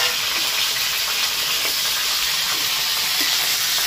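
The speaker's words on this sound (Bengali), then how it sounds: "দেখো তেলটা গরম হয়ে গেছে, এবার মাথাটাকে দিয়ে দেবো।" A hilsa fish head fries in hot oil, giving a loud, steady, continuous sizzle and hiss close to the pan with no talking.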